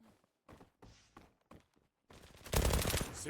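Gunfire in the Zula online shooter: several short muffled shots and clatters, then a dense, loud burst of rapid fire near the end.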